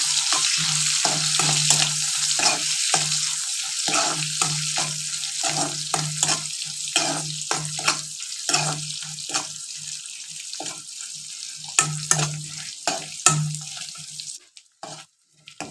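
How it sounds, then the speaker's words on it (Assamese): Drumstick (moringa) pieces frying in a pan, a steady broad sizzle running throughout with repeated clinks and scrapes of stirring, close and fairly loud, then cutting out near the end. "এতিয়া চাওক এইখিনি ফ্ৰাই কৰি লোৱা হৈ গৈছে"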